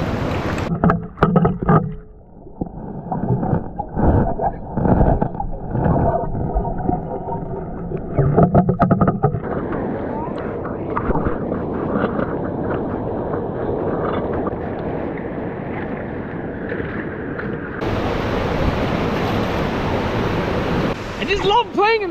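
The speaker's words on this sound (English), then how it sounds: "I just love playing in the river." River water rushing and splashing at an off-grid micro hydro site, a continuous broadband roar with shifting surges, people whooping and talking over it and a brighter hiss near the end.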